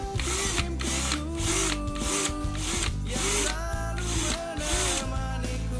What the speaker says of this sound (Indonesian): kita gunakan mata bor step atau mata bor piramid untuk membesarkan lubangnya